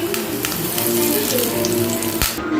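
Steady, dense sizzling of mustard seeds and curry leaves frying in hot oil, loud and close, continuing without pause with a brief clatter near the end.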